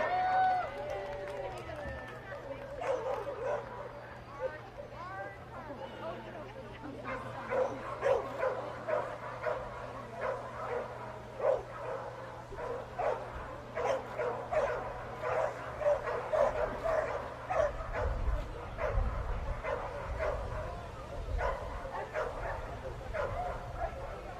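Dog at a dock jumping competition barking in repeated short yips and bow-wows, mid-distance, over a noisy outdoor crowd with an announcer talking throughout.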